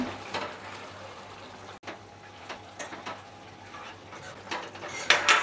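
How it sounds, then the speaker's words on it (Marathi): Vegetables being stirred and sautéed in a pan for a home-style bhaji with fresh cashews, with scattered scraping and clinking of a spoon against the pan over a low steady background, no talking. "आता आपल्याला चांगलं परतून घ्यायचं आहे"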